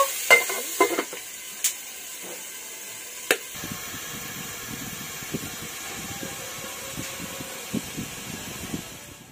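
Washed radish dropped into hot oil in a pan, with a few sharp clatters at first, then a steady bubbling sizzle and crackle close by with no talking.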